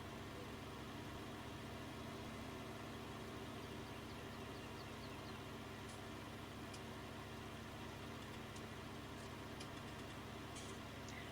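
A low-powered 40-horsepower tractor idles on flat farmland in Farming Simulator 19, a steady, faint engine rumble with an even, continuous drone and a few faint ticks.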